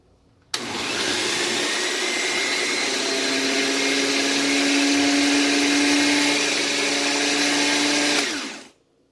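An electric food chopper motor whirs loudly and steadily for about eight seconds chopping onion, starting abruptly and winding down at the end, with no talking.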